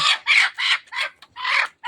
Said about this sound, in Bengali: এই মুরগিটা দেশি মুরগি